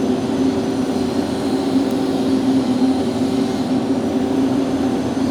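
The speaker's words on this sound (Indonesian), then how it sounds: "Blower nyala, jet fan menyala" A blower and jet fan run in a poultry house, making a loud, steady, close roar with a constant droning hum and no break.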